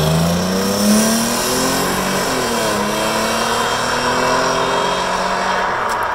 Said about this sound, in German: Wir haben doch den Auspuff modifiziert, Max.